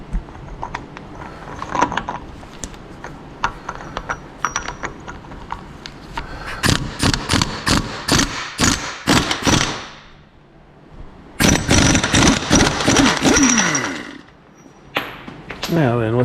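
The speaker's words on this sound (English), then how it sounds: "That way I can get my socket on there to get the nut out." Metal tool work on the front axle of a 1996 Ram: rapid bursts of ratcheting and clattering as a socket works an axle nut loose, close and loud, with quieter clinks between the bursts.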